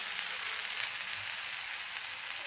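Chopped onion and tomato sizzle steadily in hot oil in a pan while paneer chilli masala is cooked, a continuous close hiss with no talking.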